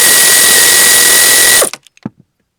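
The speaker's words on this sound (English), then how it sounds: "Go ahead and take that bolt out." An 8mm socket on a power driver backs out a glove compartment bolt in a 2002 Acura MDX. It gives a loud, steady whir up close, then stops abruptly and leaves a few light clicks and taps.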